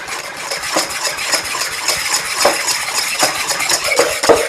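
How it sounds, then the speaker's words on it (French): Sugar and vanilla sugar being stirred into chocolate cake batter in a bowl, a close, steady run of rhythmic scraping and clinking strokes from the utensil against the bowl, with no talking. "je mélange bien"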